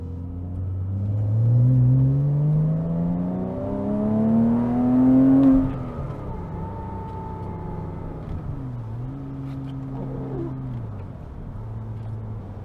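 A 2007 Porsche Cayman S with a 3.4 liter boxer engine and six-speed manual, driven hard in the rain, revs up loudly through a gear, then settles to a lower drone with shifts and lighter throttle.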